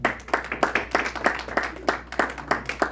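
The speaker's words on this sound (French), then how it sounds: "Je demande un choix applaudissement pour les femmes." Sparse claps from a small conference audience patter irregularly, several hands clapping at an uneven rhythm, with no one speaking.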